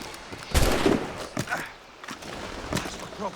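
Gunfire in the video game Assassin's Creed Rogue: a loud, booming shot followed by two sharper cracks spaced about a second apart, with a faint voice near the end.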